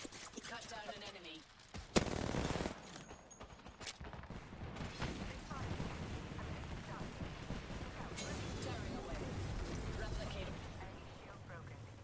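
Gunfire in the Apex Legends battle royale shooter: sharp, repeated shots and rapid bursts ring out through most of the stretch, with a loud crack near the start, under excited talk from players.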